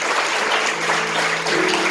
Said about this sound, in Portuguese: Dê um aplauso ao Senhor, em nome de Jesus.